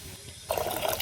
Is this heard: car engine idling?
no